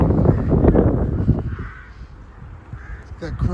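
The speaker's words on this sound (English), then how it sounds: "Look at all the crows." Crows caw loudly in a Vienna cemetery. Several close, harsh calls cluster at the start and return near the end, with a person talking partway through.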